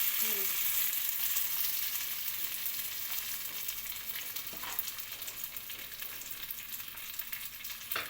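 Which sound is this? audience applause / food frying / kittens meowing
food frying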